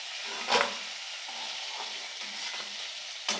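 Crab fries steadily in hot oil in a pan, with a couple of louder spatters and stirring scrapes.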